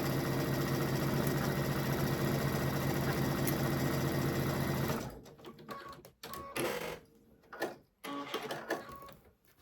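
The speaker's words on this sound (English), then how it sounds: "we are going to sew all the way down" A sewing machine stitching quilt pieces runs in a steady, continuous mechanical whir, then stops and breaks into short intermittent bursts, close and moderately loud with no talking.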